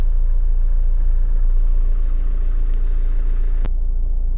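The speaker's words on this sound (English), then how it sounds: "engine's running as it has been all the way through" A Honda CR-V 2.2 i-CDTi diesel engine idling, heard from inside the car as a loud, steady low-pitched drone with an even pulse and a brief faint click near the end.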